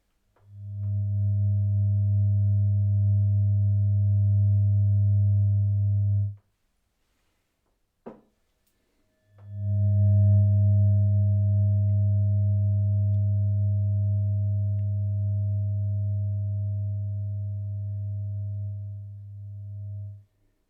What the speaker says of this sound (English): as you hear the sound of the fork now.